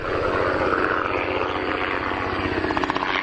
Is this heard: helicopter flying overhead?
yes